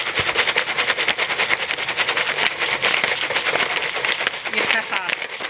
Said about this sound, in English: you gotta listen for the popping to stop so you don't burn it